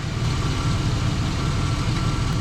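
A car's engine idles with the A/C compressor running, giving a steady low rumble and dense mechanical drone that holds evenly throughout with no talking.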